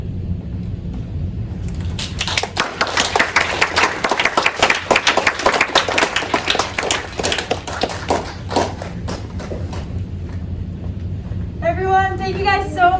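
Audience applause at a 2022 winter show swells into dense, sustained clapping for several seconds, then thins out to scattered claps before a voice speaks over the fading end.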